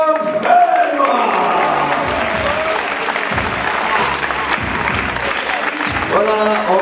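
Crowd at a boxing gala applauds right after the judges' verdict announcing the winner, a loud sustained burst of clapping from a full hall with some voices mixed in.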